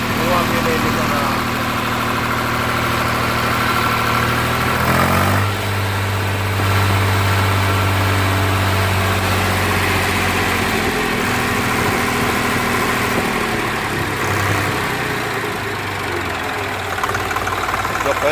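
A rebuilt Swaraj FE 735 tractor engine idles loudly and continuously, a steady low throbbing firing rhythm with a brief rev change near five seconds, close by throughout.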